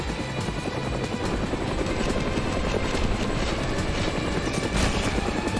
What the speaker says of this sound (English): Okay, chopper's almost gone.